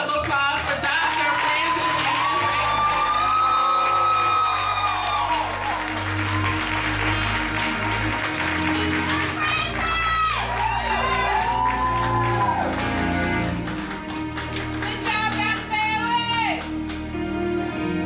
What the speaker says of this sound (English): Would you please give a round of applause for Dr.